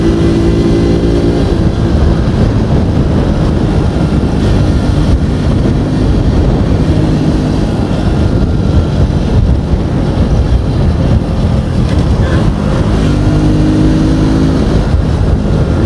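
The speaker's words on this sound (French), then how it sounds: "là je vous laisser un peu le bruit de la moto parce qu'on me l'a demandé" Masai Greystone motorcycle riding in traffic: a loud, continuous engine drone with steady low hum and heavy wind buffeting on the microphone, rising and easing slightly as the throttle changes, with no voices.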